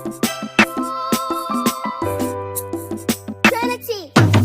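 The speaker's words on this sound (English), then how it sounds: "Originally, the beat sounds like this." An unmixed African trap beat plays in FL Studio: punchy kicks, crisp hi-hats and a sustained melodic synth line over deep bass, with no vocals.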